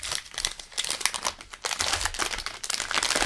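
A Nestlé Smarties Sharing Block's tear-and-share wrapper is torn open up close, giving continuous crackly crinkling and rustling of the packaging without pause.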